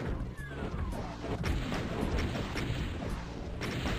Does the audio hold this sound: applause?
no